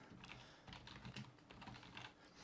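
Typing on a computer keyboard, with a quick run of soft, close keystrokes in an irregular rhythm.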